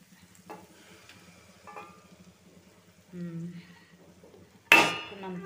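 Eggs going into a pan of frying potato curry, with quiet sizzling, a few spoon clinks and scrapes, faint talk, and a loud splashing crackle toward the end as the eggs hit the hot oil.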